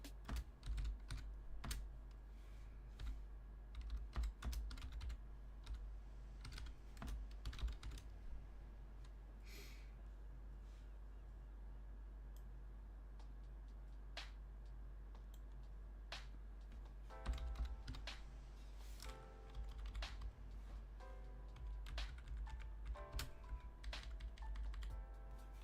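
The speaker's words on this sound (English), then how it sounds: "We are typing upside down." Intermittent typing on a computer keyboard, keystrokes coming in uneven runs and pauses over a steady low hum, fairly faint and without talk.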